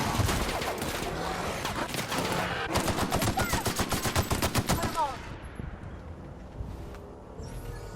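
Rapid automatic gunfire bursts in the shooter game The Outer Worlds, a dense rattling fusillade of closely spaced shots that builds, then tapers to scattered cracks and fades near the end.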